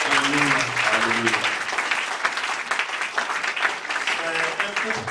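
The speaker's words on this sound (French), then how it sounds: "Can we clap for the Lord together?" Church congregation in Senegal clapping together for the Lord, a steady dense patter of many hands filling the room, with voices singing and speaking over it throughout.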